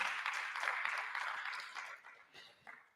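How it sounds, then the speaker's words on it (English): Applause from an audience at a college president's public lecture, a steady dense patter of many hands that gradually thins and fades, with a couple of brief swells near the end. "please give them a round of applause"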